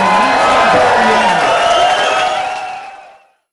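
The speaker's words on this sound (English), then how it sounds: "A big cheer for our future Prime Minister right here" A dense crowd cheers and whoops loudly for Maxime Bernier at a Toronto rally, holding steady before fading quickly to silence.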